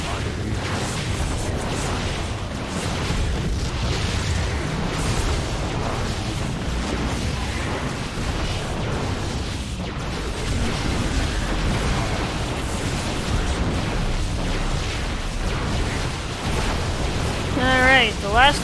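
Cannons being destroyed in the StarCraft 2 Legacy of the Void campaign, heard as a dense, continuous rumble of booming game explosions and battle noise, loud throughout, with a louder burst near the end.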